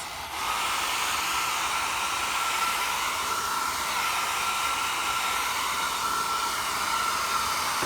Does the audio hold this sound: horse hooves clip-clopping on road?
no